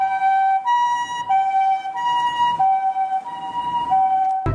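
A toy ambulance siren wails in a steady two-tone electronic loop, loud and close, ending with a sharp clunk.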